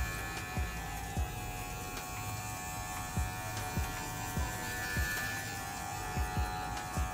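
Electric hair clipper fitted with a guard comb buzzes steadily while fading hair, a continuous close hum broken by periodic soft taps and strokes.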